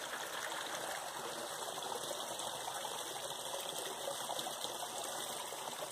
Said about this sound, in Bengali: এখান থেকে জল পড়ছে